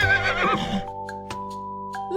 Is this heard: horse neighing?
yes